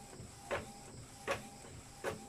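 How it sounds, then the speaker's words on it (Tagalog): An Epson L3250 inkjet printer draws paper through in three evenly spaced mechanical pulls, each a short whirring thunk, quiet and close with no talking. "Okay na yung pag-hila niya ng papel."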